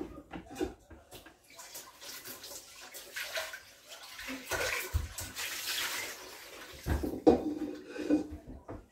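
Snails being washed under running water, a continuous splashing and gurgling from close by with occasional clinks of shells against a container.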